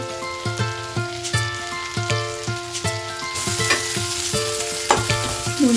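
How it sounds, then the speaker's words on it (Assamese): Local chicken frying and being stirred in a pan for a Bodo chicken curry, steady sizzle with repeated clinks and scrapes of the spoon against the pan, close and fairly loud, no talk. "ভাজি লওঁ। অলপ ৰঙা কৰি"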